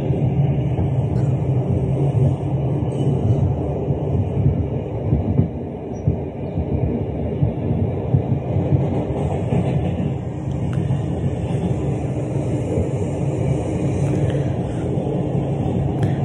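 Steady low rumble of a New York City subway train riding along the rails, a continuous droning hum with faint rhythmic clatter and no talking.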